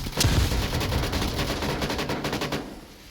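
Rapid bursts of gunfire crackle almost continuously in a VR shooter match, loud and dense with sharp repeated shots, thinning toward the end.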